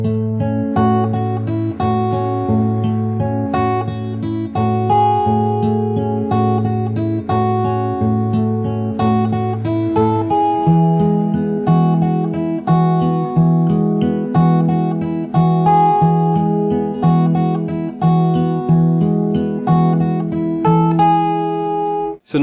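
An acoustic guitar plays a fingerstyle passage from a song, with sustained plucked chords and melody notes shifting to a lower bass partway through, close and continuous with no voices.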